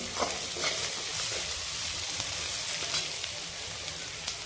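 Onion sautéing in oil in a pan, a steady close sizzle with soft scraping stir strokes at irregular intervals, no voices.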